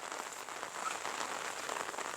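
Rain falls over rural fields and paddies in a continuous even hiss of countless drops, close and fairly loud, with no voices or other sounds.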